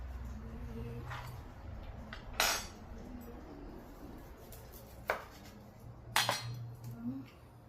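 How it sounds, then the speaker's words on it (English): Grilled Cambodian sweet pork sausage sliced on a board, a few sparse knife strokes and dull thunks over low background hum, close but fairly quiet with gaps between cuts. "Our next one that we are going to slice up is our grilled sausage."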